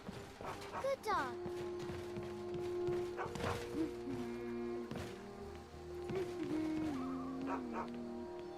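A dog in the Skyrim video game barks and whimpers in several short bursts, with whines sliding in pitch, mixed with game background sounds and a voice speaking.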